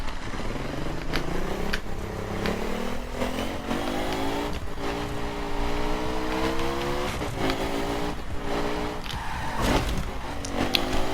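A Ducati Monster 1200 S motorcycle engine in The Crew revs loud and steady through a wheelie, its pitch rising and falling with throttle changes as it sustains a continuous drone from start to finish.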